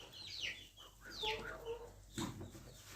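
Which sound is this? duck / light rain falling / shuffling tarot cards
duck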